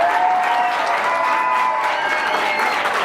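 A crowd at a Mumbai high school's founding-day function claps loudly and continuously for about three seconds, with a few voices mixed into the dense applause.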